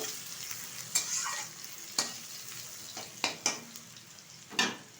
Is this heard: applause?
no